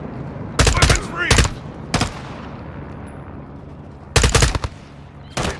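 Bursts of automatic gunfire in Call of Duty: Modern Warfare 2, loud rattling volleys in four or five separate salvos spread across the clip, with quieter battlefield ambience between them.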